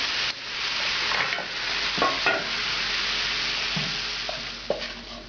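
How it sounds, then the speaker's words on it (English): Sherry wine sizzles and hisses in a hot pan with browned chicken, a steady bright frying noise broken by a few stirring scrapes and clinks. "Now I'm going to add the sherry wine and pull them off the heat."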